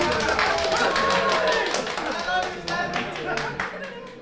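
Crowd at a Valorant esports tournament semi-final erupting in clapping and cheering after a clutch defuse, loud and sustained, with commentators talking excitedly over it.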